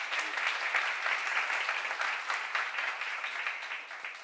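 Steady applause from a church seminar congregation, many hands clapping at once in a dense, continuous wash that holds even for about four seconds before tapering slightly.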